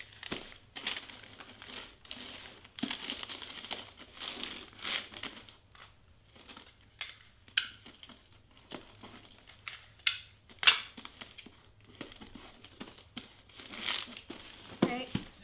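Wrapping paper crinkles and rustles close by as it is folded around a gift, in irregular bursts of crumpling and creasing with quieter pauses between handlings.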